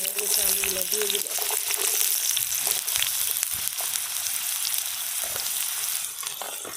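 Potatoes fry in hot oil in a wok, giving a loud, steady crackling sizzle throughout, with some stirring scrapes and a brief tonal sound near the start.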